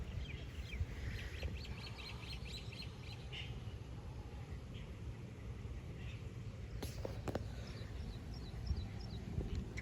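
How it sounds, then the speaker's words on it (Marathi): Birds chirp and tweet in scattered bursts above a steady low rumble out in an open farm field where pigeon peas are being sown, with a few duck-like calls mixed in. "तिथून मनात आवाज येतो पक्ष्यांचा."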